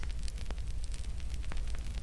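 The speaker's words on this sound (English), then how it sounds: "fresh logs crackling beneath it" Fresh logs burning in a fireplace give a steady hiss with scattered sharp crackles and pops, close and fairly quiet.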